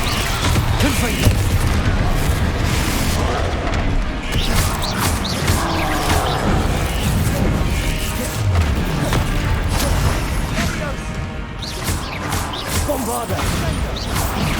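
Fire spell explosions from Hogwarts Legacy gameplay on PC: dense, continuous booms and crashing blasts stacked over layered game effects, loud and busy throughout with a voice partly audible in the mix.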